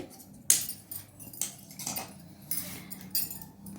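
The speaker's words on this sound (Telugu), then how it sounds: "మనకి చివరిలో సమానంగా ఉండేటట్టు కట్ చేసేసుకుందామండి" Scissors cut through folded blouse cloth in several crisp, separate snips spaced about half a second to a second apart, close and fairly quiet, with no talking.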